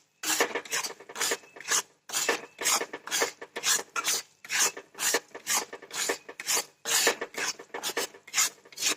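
Semolina for mango sheera is stirred and roasted in a pan, making close, rhythmic scraping and rasping strokes in steady bursts with short pauses between them. No one speaks.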